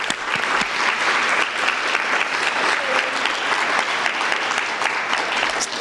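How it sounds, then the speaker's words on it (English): An audience at a school poetry night claps steadily for several seconds, a dense and even wash of applause from many hands. "So give yourselves a nice round of applause."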